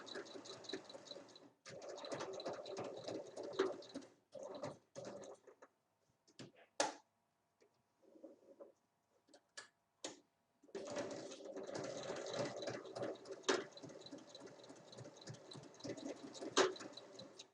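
A sewing machine stitches a fabric pouch in short bursts, with quiet pauses and a backstitch between runs of steady whirring, faint and close, with no speech.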